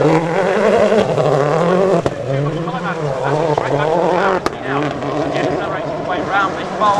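M-Sport rally car driven by Matthew Wilson at Wales Rally GB 2010, its engine revving loud and close as it heads along the stage toward a water splash, with a commentator talking over it throughout.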